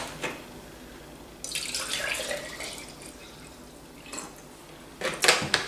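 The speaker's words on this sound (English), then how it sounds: "Tip in enough vinegar to cover the eggs." Vinegar is tipped from a container into a jar over eggs, giving a bright splashing pour that starts abruptly, trickles off, then ends with a few louder sloshes close by.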